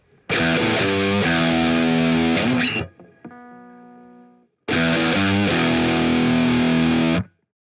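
Heavily distorted heavy metal guitar played through a NUX MG30 multi-effects unit with an input noise gate, two loud sustained chords, each cut off cleanly into silence, with a brief ringing decay between them.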